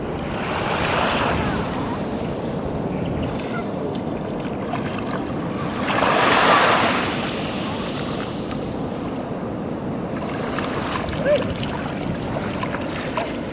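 Sea waves wash steadily onto a beach on Siargao island, a continuous surf rush with one louder swell breaking midway, roughened by wind noise on the microphone.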